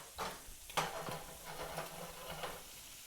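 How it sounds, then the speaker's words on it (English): Couscous stirred in a pan, a soft scraping and faint sizzle with a few light utensil taps, quiet and brief. "So let's stir our couscous real quick."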